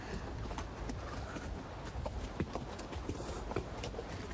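Mule and horse hooves clip-clopping on a trail, a steady irregular stream of close knocks over a windy, rustling outdoor background, with no talking.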